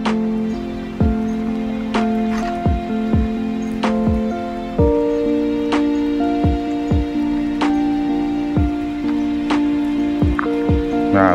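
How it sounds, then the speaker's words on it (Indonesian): Steady rain falls on a hard surface in a fishing village in Kuching, Sarawak, with irregular drips and splashes striking close by over a continuous patter. "Nah, hujan kawan."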